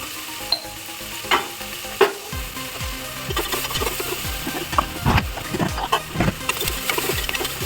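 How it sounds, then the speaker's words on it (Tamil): Salted onions sautéing in a pan for mutton biryani, a constant close sizzle broken by repeated spatula scrapes and clinks, with no talking. "மட்டன் பிரியாணிக்கு நல்லா வெங்காயத்தை வதக்கணும்"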